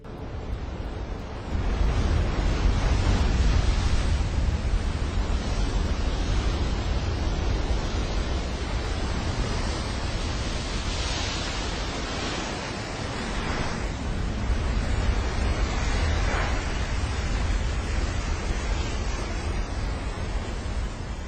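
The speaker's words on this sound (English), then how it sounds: "As the wave starts to crash in front of him" A massive ocean wave crashes as a surfer rides it, a dense, continuous roar of surf and wind rumbling heavily throughout, with no voices.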